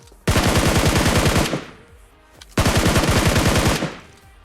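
Automatic gunfire from a video game rattles in two loud, rapid bursts of about a second each, with a short pause between them.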